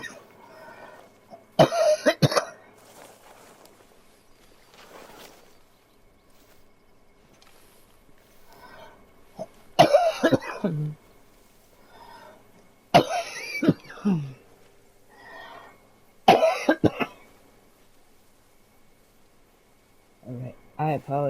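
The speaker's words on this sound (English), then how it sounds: "I apologize for coughing." A man coughs in several sharp, harsh bursts spaced out over about twenty seconds, fairly close and otherwise surrounded by quiet room tone.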